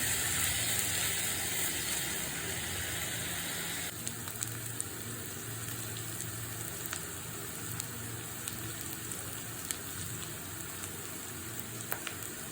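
Coconut pieces frying in hot oil for ginger pickle make a steady, dense sizzle throughout, louder for the first few seconds and then settling into a softer continuous crackle with occasional small pops, no voices.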